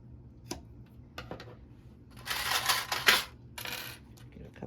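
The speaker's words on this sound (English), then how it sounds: "And now we're gonna take our scissors, as we did before, and trim them down." Scissors trimming fabric while making a bag: a few light clicks, then longer, louder bursts of crisp snipping and cutting close by.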